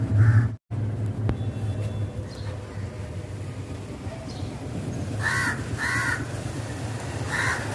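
A crow sitting on its nest caws in short bursts of four or five harsh calls near the end, over a steady low rumble of background noise, with a sharp knock near the start.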